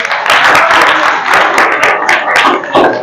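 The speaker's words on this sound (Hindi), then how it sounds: "मेरे लिए भी तालियां बजा दो एक बार।" An audience at a school event breaks into loud, dense clapping that rises and falls in bursts over a few seconds, with no talking in it.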